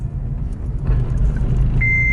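A Honda Civic Si with a manual gearbox drives slowly at low revs, its steady engine and road rumble close and continuous, with a faint beep tone near the end.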